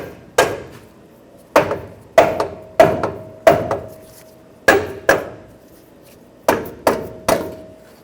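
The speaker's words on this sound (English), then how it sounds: "You may or may not need a rubber mallet to tap it into place." A rubber mallet taps a lower control arm into the frame of a 2009–2014 Ford F-150, delivering about a dozen sharp, close knocks at irregular intervals, some in quick pairs, each with a short ringing decay and no talk.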